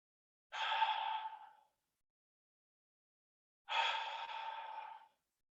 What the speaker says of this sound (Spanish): vas a poder escuchar cómo tu respiración entra y sale por tu sistema respiratorio